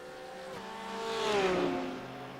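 A GT3 race car in a racing game league at VIR screams past with a steady high engine tone that swells, drops in pitch as it passes close by, then fades.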